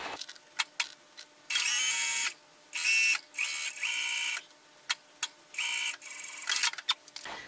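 A sewing machine stitches a dart in short bursts of whirring, stopping and starting several times, with brief clicks and handling noises between runs.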